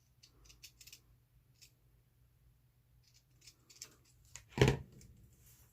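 Scissors snip lace during Christmas tag crafting, a few faint clicks followed by one sharp, close cut.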